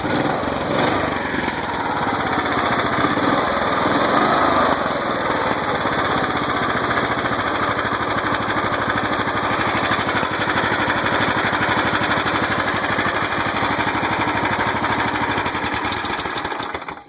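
A 420cc Predator engine swapped into a Honda Odyssey runs steadily throughout, a loud, continuous close-up drone like a lawn mower with a fairly even pitch that rises a little early on.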